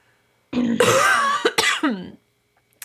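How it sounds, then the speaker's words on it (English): A woman coughs and clears her throat in a short burst of several harsh, close coughs, with silence before and after. "I woke up with a cough this morning"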